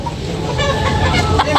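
A rooster clucks at a crowded morning chicken market, short repeated clucks close by amid general market bustle and other fowl.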